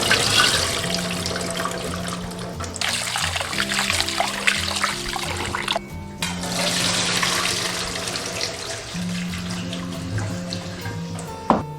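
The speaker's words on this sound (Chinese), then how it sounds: "一定要把猪肝的血水给它淘洗干净" Pork liver being rinsed in a bowl of water under a running tap, continuous splashing and trickling with sloshing as the pieces are swished, close and fairly loud, no speech.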